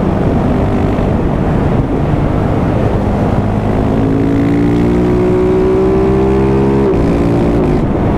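A car engine runs at full throttle on a road, a loud, continuous roar whose pitch climbs steadily before dropping at a gear change, with no talking.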